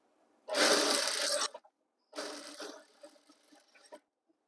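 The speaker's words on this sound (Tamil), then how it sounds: "அப்படியே திருப்பி மேலே ஒரு தையல் வெஜ்ஜி ஓரத்தில் போடுங்க" Sewing machine stitching a seam along the edge of school uniform pants, heard as two close bursts of fast whirring, the first about a second long and the second slightly longer and tapering off.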